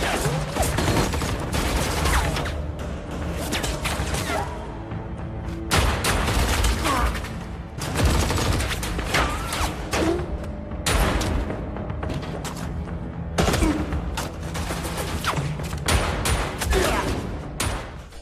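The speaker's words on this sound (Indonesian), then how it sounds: "Kemudian terjadilah adegan baku tembak." Dense gunfire erupts in a Korean action film shootout involving a North Korean squad, loud bursts of shots and booms overlapping with music and effects across the whole stretch, with faint voices mixed in.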